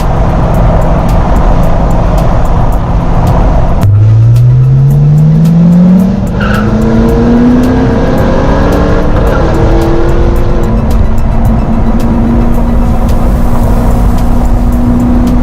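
A Corvette Z06 on wide tires accelerates past at close range, engine note rising steadily while the tires squeal, loud and continuous over the whole stretch with no talk.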